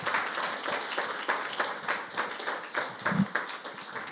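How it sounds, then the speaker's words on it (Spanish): A church congregation claps together in a strong, roughly rhythmic beat, a full room of hands sustained for about four seconds. "Yo creo que daré un aplauso al Señor."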